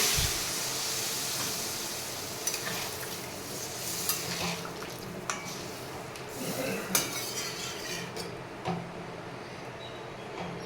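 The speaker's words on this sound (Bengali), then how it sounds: "মশলাগুলোকে ভালো করে কষিয়ে নেব" A spice paste for an egg curry with potato and papaya is stirred and fried in a pan, with a steady sizzling hiss under repeated scraping and clinking of a spoon against the metal.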